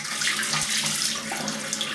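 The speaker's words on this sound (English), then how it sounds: "I'm just going to add some more water." A tap runs water steadily into a sink while shaving soap is lathered, close, loud and unbroken.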